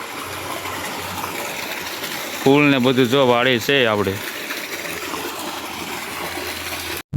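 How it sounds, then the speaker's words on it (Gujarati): Continuous rushing of water flowing steadily into a container, with a person talking briefly over the noise in the middle. "અત્યારના ટાઈમે આપણે પાણી ભરી રહ્યા છીએ"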